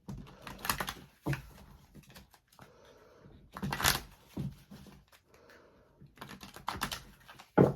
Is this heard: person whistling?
no